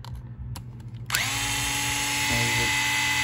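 Electric screwdriver backing screws out of an RC car's gear cover: a few faint clicks, then a sudden steady high whine of the motor that holds on, with a brief pitch wobble near the end, close up and loud.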